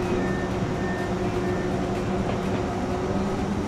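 Train running between stations in the Transport Fever video game, a steady loud rolling rumble with a faint tonal whine, continuous throughout with no voices.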